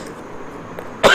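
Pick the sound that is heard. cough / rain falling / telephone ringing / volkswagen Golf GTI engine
cough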